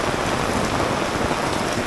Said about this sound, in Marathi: आता पाऊस आलेला आहे